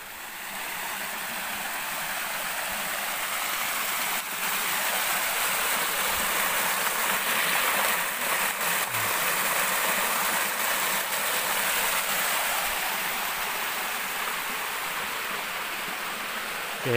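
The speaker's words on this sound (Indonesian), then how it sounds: "Di kiri kita ada sebuah sungai kecil." A small river flowing beside a path through the forest in Manyaran, Wonogiri, giving a steady full rush of water that holds even and unbroken throughout.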